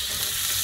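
A steady, loud sizzle of fish frying on a hot barbecue grill, a continuous hiss with faint crackles throughout.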